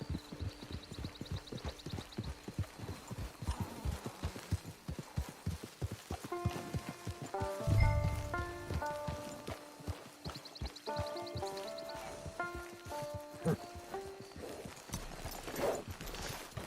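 Horse hooves clip-clop steadily on the ground in the video game Red Dead Online, with a continuous rhythmic plodding under ambient game sound and bright tonal chimes.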